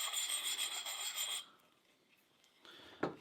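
A NedFoss 13-inch hatchet is stroked across a sharpening stone, a close gritty rasping that runs for over a second, stops, then resumes briefly before a knock.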